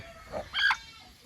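An egg-laying hen gives a short, close cluck or two against a quiet background.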